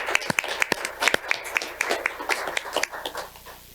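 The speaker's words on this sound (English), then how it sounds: "You deserve a round of applause." At a city council meeting, an audience applauds with a brief round of scattered, fairly sparse claps, close and moderately loud, fading out at the end.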